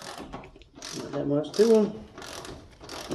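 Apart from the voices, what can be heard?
air ratchet loosening bolts on mower spindle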